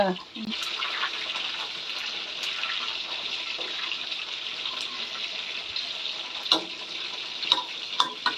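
Pork belly, salted and coated in batter, deep-frying for crispy pork with a steady broadband sizzle throughout, a few sharper spatters and pops near the end.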